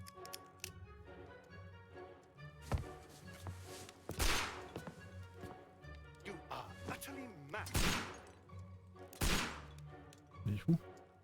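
Gunfire in the game Sherlock Holmes Crimes & Punishments, several loud sharp shots at irregular intervals over a low game soundscape, with someone talking quietly in between.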